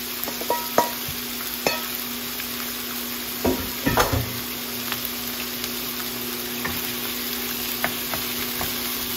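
Chicken pieces for jjimdak fry in a pan toward golden brown, giving a quiet, steady sizzle punctuated by occasional utensil clicks and a couple of louder scrapes over a low background hum.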